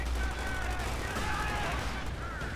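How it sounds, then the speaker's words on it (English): Incendiary artillery barrage in Company of Heroes 2: a continuous rumbling wash of distant blasts and gunfire, with low booms underneath and faint whistling tones above. "Oh, incendiary artillery."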